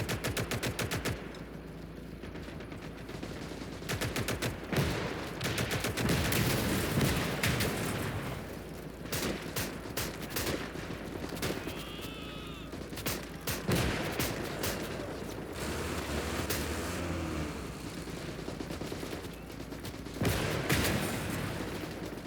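Heavy gunfire from a tank battle between Soviet T-28s and a German Panzer III in the game Call to Arms: Gates of Hell: dense, continuous bursts of machine-gun rattle and cannon shots, loud and sustained throughout.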